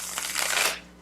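A deck of Morgan Greer tarot cards with satin-finish mass-market cardstock is riffle-shuffled once, a close, brisk flutter of cards lasting under a second, ending with a soft tap.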